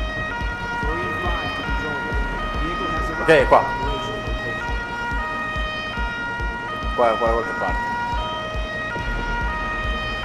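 A fire engine siren wails steadily in the video game Firefighters 2014, a continuous cycling tone running through the whole stretch while someone talks over it in Italian.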